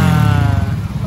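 A motorcycle engine runs steadily nearby, a loud continuous low rumble with a slight flutter that eases a little toward the end, with no talking.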